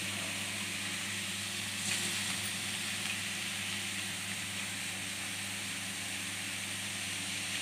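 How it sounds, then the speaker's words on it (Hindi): Banana and potato pakoras fry in hot oil over a low flame, making a faint, steady hiss that stays even and quiet throughout with no voices. "इसमें अब पकौड़े तलूंगी इस तरफ।"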